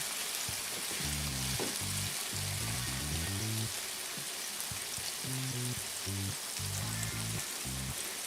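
Fish for a chowder frying in a crowded pan, giving a steady, close hiss of sizzling fat throughout, with lower tonal sounds rising and falling beneath it.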